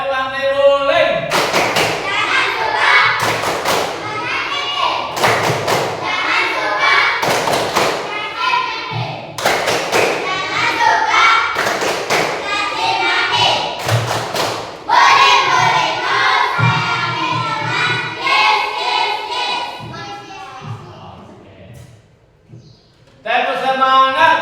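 Group of children clapping their hands in rhythm, sharp bursts of claps in clustered patterns, loud and close, with children's voices chanting and shouting between the bursts.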